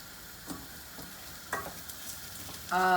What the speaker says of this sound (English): after you stir a little bit and the rice is nice and blended with the zucchini